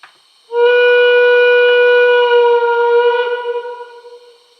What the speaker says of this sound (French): Un coup de sifflet lent.